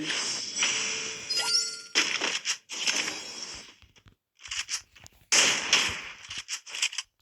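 Rapid gunfire from the Free Fire mobile battle game, sharp crackling bursts in several separate volleys with short gaps between them, loud and close with no talk over it.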